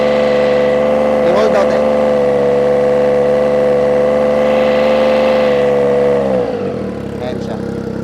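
A 2025 Triumph Trident 660 with a shorty exhaust holds a loud, steady rev at 3,000 RPM, a droning tone that drops away near the end, with brief talk over it.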